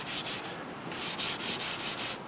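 Rubbing pure white GoJo hand cleaner onto an old, scuffed Bakelite case, heard as a steady series of close, dry scrubbing strokes in a quick back-and-forth rhythm with a short pause in the middle.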